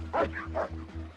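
A dog gives a couple of quick, yelping barks close by over a low steady hum.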